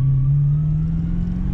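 A supercharged 1UZ-FE V8 in a 2006 Toyota Hilux Vigo, stock engine boosting at 9 psi, holds a loud, close rev, a steady deep rumble with a strong engine drone throughout.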